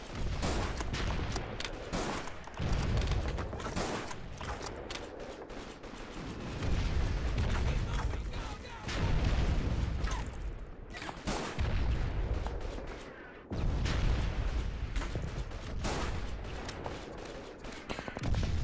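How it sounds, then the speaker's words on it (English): Gunfire fills a Call of Duty 2 battle mission, with dense, continuous shots and explosive bursts rolling through the whole stretch, loud and busy, briefly thinning in places. "How are they shooting me?"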